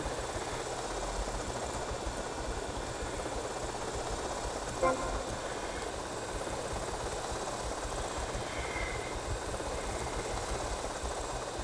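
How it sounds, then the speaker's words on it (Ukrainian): A small RC toy helicopter buzzes steadily through a mission in GTA Vice City, its droning rotor hum continuous and even for the whole stretch with no talk over it. "куди його носить цього гелікоптерчика?"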